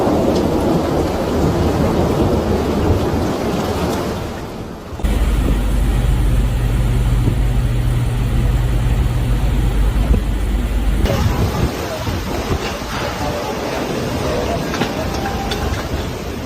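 A storm-force windstorm in Guangzhou, gusting near 128 km/h, roars as a loud, continuous wall of wind and heavy rain, with deep thunder rumbling low underneath in several abrupt shifts and no voices.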